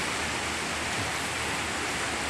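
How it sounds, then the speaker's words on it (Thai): Strong floodwater rushes over a weir, a dense, constant roar of churning water with no breaks, heard close and alone. "ให้เห็นว่าน้ำมันไหลแรงจริงๆนะครับ"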